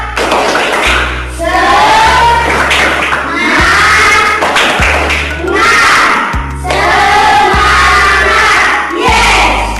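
A class of young voices chants loudly in unison in Indonesian, punctuated by steady rhythmic claps in repeated bursts.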